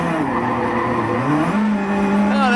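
Rally car doing donuts at Rally Catalunya, its engine droning steadily while the tires scrub and squeal, the pitch rising and holding in a long continuous skid, close and loud with no talk.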